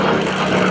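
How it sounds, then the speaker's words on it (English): Griffon-engined Spitfire fighter roaring past at an airshow, a loud, steady propeller-engine drone filling the brief moment. "Just hear the rat-tat-tat of that Griffin-powered engine."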